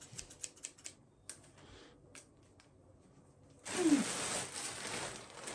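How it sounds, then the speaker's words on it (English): Scissors cutting open a SHEIN clothing package: a quick series of sharp snips and clicks, a short pause, then a louder sustained crinkle and rustle of plastic packaging close by. "Got my scissors."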